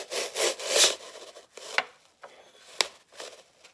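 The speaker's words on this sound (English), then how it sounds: "I want to put my dowel, eye it up, and put it in about the center of this." A wooden dowel is pushed and twisted into craft foam, making close, quiet scratchy rubbing strokes in short bursts with brief pauses between them.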